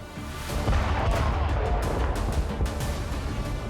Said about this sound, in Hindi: एक बार फिर जमीन और आसमान से एक साथ हजारों टन बारूद बरस रहा है।